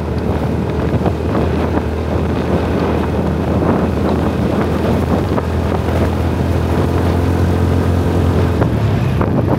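Strong, steady wind roars and buffets the microphone, over a low rumble of a vehicle driving through the Bukidnon area near Cagayan de Oro, with no voices.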